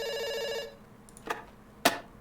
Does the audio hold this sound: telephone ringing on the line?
yes